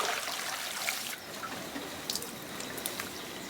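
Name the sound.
water dripping from cabuya cactus fiber being washed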